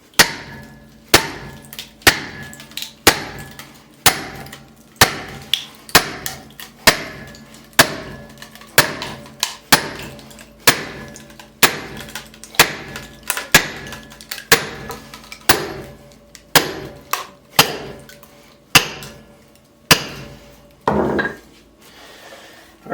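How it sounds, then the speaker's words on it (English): A sledgehammer strikes a steel firewood splitting wedge driven into a log: loud, ringing metallic blows land about once a second in a steady rhythm, close by and with no voices. "Now you could use a sledgehammer if you want."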